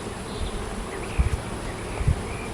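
Honey bees hum softly and steadily around an opened hive during an end-of-June inspection, a faint continuous drone with a couple of low thumps from handling the frames.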